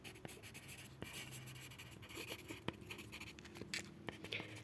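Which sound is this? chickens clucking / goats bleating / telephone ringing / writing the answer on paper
writing the answer on paper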